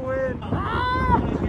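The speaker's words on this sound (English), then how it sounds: "It is super windy." Strong wind buffets the microphone outdoors at the Texas Furry Fiesta 2020, a constant low roaring rumble that runs beneath a voice speaking close by.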